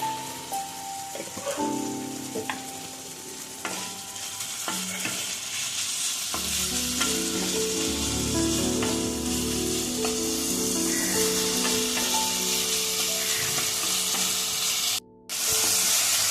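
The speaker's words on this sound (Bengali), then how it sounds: "এবারে আলুটা একটু ভাজা হবে" Potatoes sizzle steadily in a hot pan, with scraping and stirring clatter throughout, loud and close, and a brief gap near the end.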